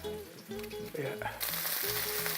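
Food sizzles and crackles in hot oil in a pan while cooking chicken cacciatore, a brief bright frying hiss that swells partway through, with tonal kitchen sounds underneath.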